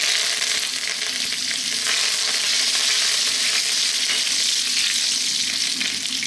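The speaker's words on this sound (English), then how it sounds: "Then what we're going to do is drop in our curry leaves." Curry leaves fry in hot oil in a pan, producing a loud, steady, crackling sizzle that stays continuous and close throughout with no talking.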